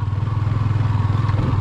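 A motorcycle rolls slowly along a rice field path, its engine thrumming in a steady low pulse with a faint rattle, close and continuous.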